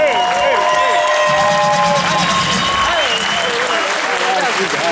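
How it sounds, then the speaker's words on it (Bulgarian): Concert crowd applauding and cheering at a live Bulgarian rap show marking 20 years of Rap Nation, a loud dense wash of clapping with whistles and shouts throughout. "Аплодисменти!"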